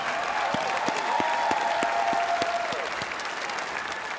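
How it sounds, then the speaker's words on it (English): An audience at a Pro Football Hall of Fame enshrinement gives a warm round of applause, a close, sustained clapping with some individual claps standing out, fading slightly near the end. "How about a round of applause for Carol Davis, who wasn't able to be here"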